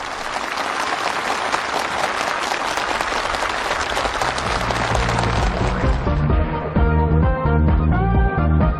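Enthusiastic applause from workers, builders and farmers at a housing handover ceremony in South Hamgyong, loud continuous clapping that thins toward the end as music takes over.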